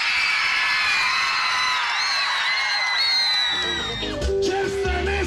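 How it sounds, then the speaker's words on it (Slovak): Crowd yelling and whooping loudly at a public event in Nové Zámky, with high shouts and cheers overlapping continuously, then fading as amplified music comes in near the end. "Ešte raz si prosím jeden veľký potlesk a výkrik."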